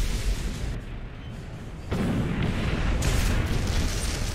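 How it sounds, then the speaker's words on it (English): Bombs exploding in War Thunder during a tank battle: a sustained, heavy rumbling roar with a sharp loud onset partway through and another surge later, steady and dense with no clear gaps. "I hear bombs."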